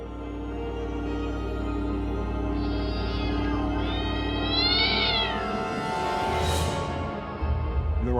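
A kitten meows, with a few drawn-out, rising meows heard up close over a steady low background hum.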